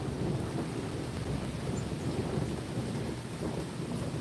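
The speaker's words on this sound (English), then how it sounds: "You missed some killer thunder" Steady low rumble of thunder during a storm, loud and continuous with rain-like hiss across the whole stretch, no voices.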